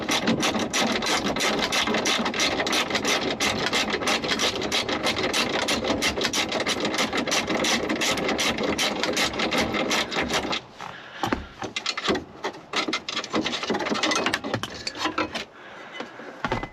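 A ratchet works loose the nuts on the steering column bracket of a 1991 GMC Sierra, a close, continuous rapid clicking and rasping that runs steadily before breaking into shorter bursts and pauses toward the end.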